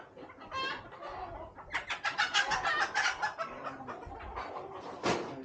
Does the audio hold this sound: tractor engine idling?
no